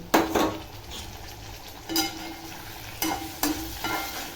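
Potatoes frying in oil in a pan, stirred after coriander powder goes in: continuous sizzling broken by several loud scraping strokes of a utensil against the pan at irregular intervals, close up, no voices.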